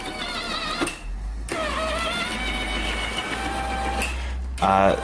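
The battery-powered chute rotation motor on a Snow Joe iON18SB-HYB 40V cordless snow blower whirs steadily for several seconds, with brief pauses and a short clicking burst at the end; close and fairly loud.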